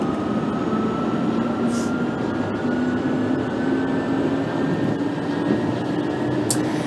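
A London Underground Central Line 1992 stock train in a BVE simulator runs at a steady speed, with a constant loud roar of wheels and motor, a faint whine slowly rising in pitch, and occasional brief clatters.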